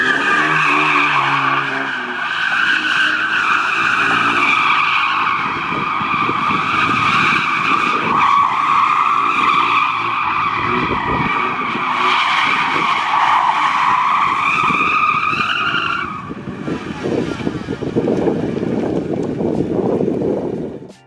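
Ford Mustang fitted with a handbrake sliding through a long, loud tire skid with a steady high squeal that holds for many seconds, then breaks into rougher scrubbing before cutting off.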